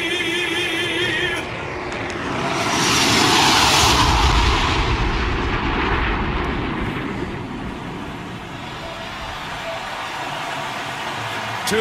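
An aircraft flyover during the anthem in the NHL PS4 video game, Stanley Cup Final Game 7, Dallas Stars vs Tampa Bay Lightning, builds into a loud jet roar, peaks, then slowly fades under a background crowd hum.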